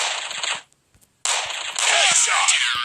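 Pistol shots in the video game Counter-Strike, fired during an offline match: sharp cracks come in two bursts split by a short silence. Each burst carries its own clattering echo.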